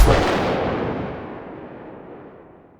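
A single loud gunshot from a regular unsilenced modern firearm, a sharp sudden crack followed by a long booming tail that fades over more than two seconds.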